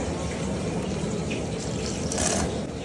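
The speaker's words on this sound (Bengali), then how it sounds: "মাছটা আমরা ধুয়ে নিচ্ছি" Water runs steadily from a tap over hilsa fish being rinsed in a kitchen, a close, continuous splashing rush with no break.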